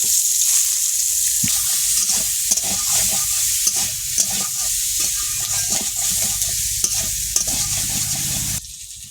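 Chopped onions and green chillies fry in a pan with a loud, continuous close sizzle and repeated stirring scrapes throughout, cutting off abruptly at the very end.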